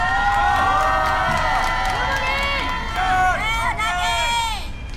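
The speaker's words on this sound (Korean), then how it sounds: "여러분들 마음껏 소리 지르셔도 됩니다." A courtroom audience in a mock public trial shouts and cheers loudly, a dense crowd roar with whoops and rising voices sustained throughout, fading slightly at the end.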